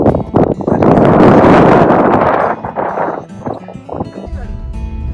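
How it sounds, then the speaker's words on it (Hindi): Strong wind buffets the microphone in a Himalayan mountain valley in Spiti. It blows as a loud, gusty roar that eases partway through, while people talk intermittently. "हवा चल रही है तो गर्मी नहीं लग रही।"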